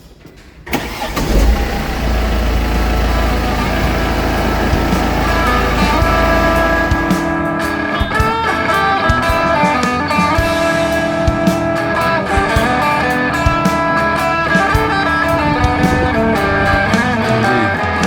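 A 2011 Mercedes C250 CDI coupe's diesel engine cranks and starts, then settles into a steady, slightly rough idle with a clattering rhythm, recorded up close.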